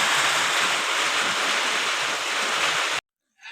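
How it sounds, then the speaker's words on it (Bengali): Stormy wind with rain outside, a loud continuous roaring rush that cuts off abruptly near the end. "ঝোড়ো হাওয়া তার সাথে বৃষ্টি"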